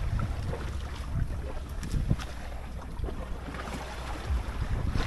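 Steady wind buffeting the microphone over open water near a boat, with low rumbling gusts and soft wave wash running throughout, no voices.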